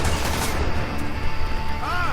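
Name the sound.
gunfire shooting bombs in Army of Two: The 40th Day video game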